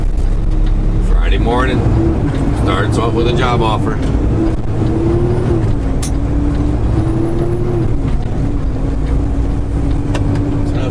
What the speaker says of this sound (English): there's got to be at least 20 cars now on my left side